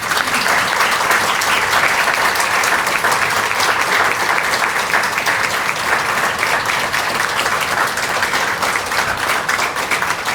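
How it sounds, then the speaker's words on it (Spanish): Loud, continuous applause from an audience at a book presentation fills the room, honoring the author Aldo with steady clapping that never lets up across ten seconds. "brindemos un fuerte los aplausos a Aldo"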